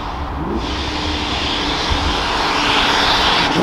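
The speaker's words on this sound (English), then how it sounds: "just the Pro Charger idle is my favorite thing to hear" A stock-bottom-end LT1 Camaro fitted with a ProCharger supercharger and a large race blow-off valve idles steadily close by, a continuous loud rumble with whooshing air and whine running the whole time, no talk.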